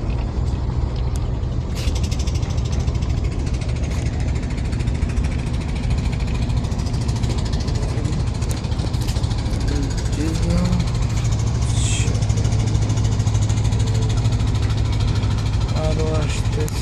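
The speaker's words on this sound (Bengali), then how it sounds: "ঢাকা লঞ্চ ঘাট একে একে লঞ্চ ঘাটে লঞ্চ সারিবদ্ধ হয়ে গেছে" Passenger launch ferries line up at the Dhaka launch ghat, their engines chugging in a steady low rumble throughout, with harbor clatter, occasional horn-like tones and background voices layered over the din.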